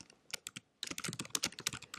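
Quick, irregular clicking of a computer keyboard at close range as someone types text into a word-processing document, with a short pause before a denser run of keystrokes and no voices.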